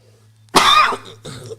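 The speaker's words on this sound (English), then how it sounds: "And you must excuse me there, a little cough." A single harsh cough bursts out close by, followed by a shorter second cough, over a low steady hum.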